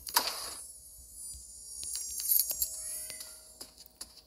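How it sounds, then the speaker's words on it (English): A cat gives a short meow at the start, followed by quiet clicking and a faint mechanical hum. "My cat's meowing."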